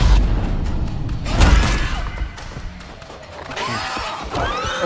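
A close-range gunshot in the horror video game Until Dawn lands as a heavy boom and thud amid tense, rumbling game noise, followed by scraping and rustling effects, loud and near.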